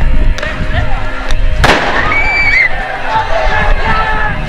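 Police stun grenades exploding above a crowd in Montreal: one sharp, loud blast stands out amid crowd noise, with fainter pops before it and shouting voices afterward.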